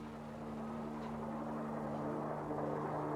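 A steady, droning helicopter engine hum with a constant low rotor throb, fairly distant and unchanging, no voices.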